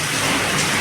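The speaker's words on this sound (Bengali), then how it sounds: "চরম বৃষ্টি হচ্ছে রায়গঞ্জে আজকে।" Heavy rain pours down in Raiganj, a dense, steady broadband rush that holds even and loud for the whole brief moment, with no voices.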